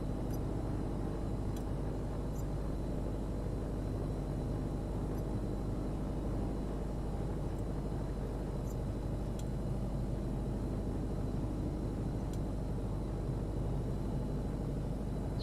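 A Just Flight PA28 Arrow III light aircraft in a flight simulator game, departing San Francisco over the Bay Area: a steady, fairly quiet broadband engine and airflow drone holds unchanged throughout with no talking.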